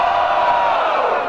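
A rap battle crowd cheers and shouts for the rapper, a dense, loud roar of many voices that holds steady for the whole short moment.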